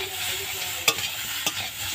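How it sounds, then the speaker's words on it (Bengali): Potatoes and bitter gourd fry in a pan with a steady close sizzle, broken by two sharp scraping stirs of a spatula. "একটু ভালো করে ভেজে নিচ্ছি"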